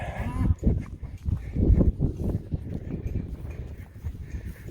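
Irregular hoof steps of a horse walking nearby, with some low shuffling and a brief snort-like breath near the start.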